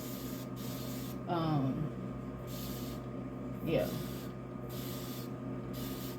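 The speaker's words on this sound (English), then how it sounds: "I'm gonna spray it with so that some of the rose water can get on there" Two short hissing bursts from a spray bottle mist rose water onto freshly washed, wet hair. A brief word is spoken between the bursts.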